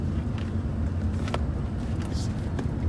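Steady interior road rumble from a Chevy Volt on a test drive, a smooth low drone with faint rattles and brief clicks, no distinct engine note and no talking.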